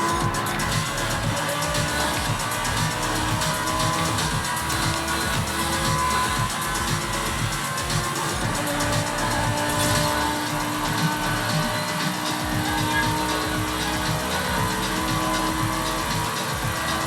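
Loud, continuous racing-car engine roar from a driving video game played on a Logitech G923 steering wheel, with revving and occasional tyre squeal throughout, no voices over it.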